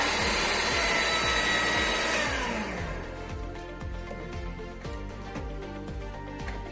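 An electric mixer beating cake batter for a mango bingka runs at a loud high whir, then is switched off and winds down into a lower, fading motor hum with rhythmic ticking, alone without speech.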